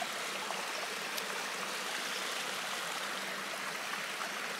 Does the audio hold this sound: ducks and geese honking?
no